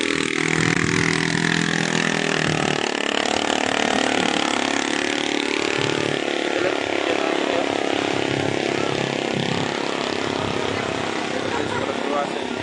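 Motorbikes push through a flooded street in Makassar, water up to adult calf height, their engines droning steadily and fairly loud amid splashing and general street noise for the whole stretch.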